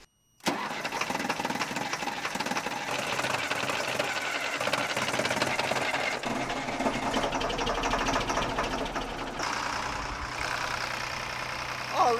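A large excavator engine cranks, catches and settles into a steady mechanical idle, close and continuous with a busy rattling texture for several seconds.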